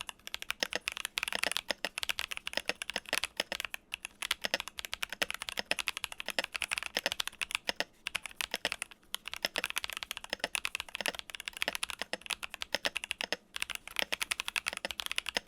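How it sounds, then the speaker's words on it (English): Brisk, continuous typing on an IQUNIX Q66 mechanical keyboard with tactile box-stem switches, dense clacky keystrokes in a steady rhythm with brief pauses, close and fairly loud. "It's a really satisfying tactile typing experience, and it sounds great on this board."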